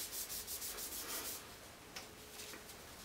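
A brush scrubbing grease and grime off rifle parts, giving a close, steady rhythmic rasping of bristles back and forth that eases slightly partway through.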